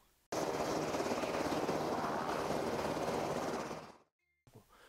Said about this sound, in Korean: 그 세계 최강의 헬리콥터라고 하는 아파치